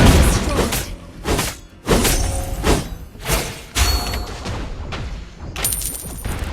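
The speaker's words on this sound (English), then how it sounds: "Our turret has been destroyed." A turret is destroyed in the mobile game Aloucard, heard as a run of loud booming impacts and shattering crashes with pauses between bursts, plus chiming effects near the end.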